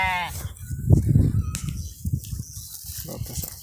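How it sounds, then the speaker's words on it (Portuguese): Sheep being fetched at the end of the afternoon bleat close by in short repeated calls, mixed with shuffling and rustling noise. "Essas duas ovelhas aqui."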